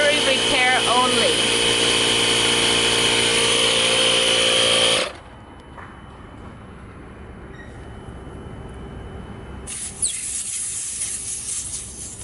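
A Chevy Volt tire repair kit's compressor drones loudly and steadily, inflating a tire for about five seconds, then cuts off abruptly, leaving quiet background with faint rustling.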